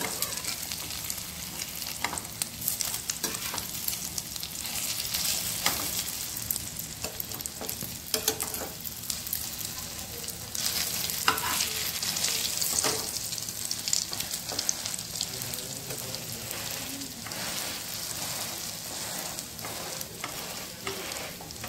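Masala French toast slices frying in a pan, a steady close sizzle running throughout with occasional scraping and clicking as they are turned and stirred.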